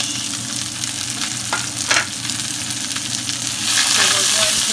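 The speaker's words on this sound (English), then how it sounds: "So we're going to stir that around, nice and sizzling." Peppers, thyme, garlic and onion sizzle steadily in a hot pan while being stirred, a dense continuous frying crackle with brief scraping stirs cutting through, close and loud.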